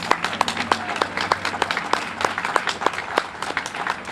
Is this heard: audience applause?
yes